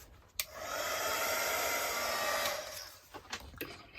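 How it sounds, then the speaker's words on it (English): A heat gun blasts steadily on a mini fairy doll kit, a loud continuous airy roar that starts abruptly, holds for about two seconds, then cuts off, leaving light handling clicks. "I'll give that a quick blast with the heat gun"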